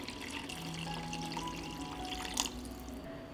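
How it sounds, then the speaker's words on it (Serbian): Water poured over chopped vegetables and seasonings in a cooking pot, a continuous close splashing pour with a bright burst near the end, no talking. "nalit ću sa vodom"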